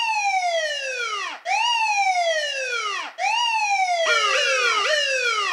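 Police car siren wailing loudly and close, three long descending sweeps followed by faster overlapping yelps near the end, with no talk over it.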